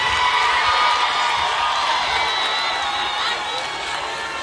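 Crowd at a class of 2021 graduation celebration, a dense wash of cheering, whooping and applause that stays loud and steady throughout before easing slightly at the end.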